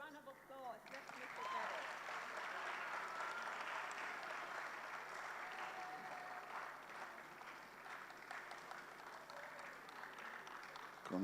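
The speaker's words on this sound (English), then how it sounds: "Oh, a round of applause." A round of applause at a leadership economic forum award presentation: a crowd claps steadily at low volume for several seconds, with voices mingling and talking through it.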